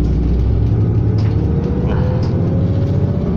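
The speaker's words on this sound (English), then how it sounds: "This is ETS Bus 2018 Grand Western City Bus Unit." A 2018 Grande West Vicinity city bus of Edmonton Transit Service idles and runs with a loud, steady low engine drone, a faint whine slowly rising in pitch, and occasional light clicks inside the cabin.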